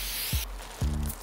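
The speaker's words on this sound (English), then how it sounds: "I'm gonna spray glue my carpet moss." Spray glue hissing from an aerosol can onto carpet moss for a floral centerpiece, a steady close spray for about half a second, followed by a few low thuds of handling.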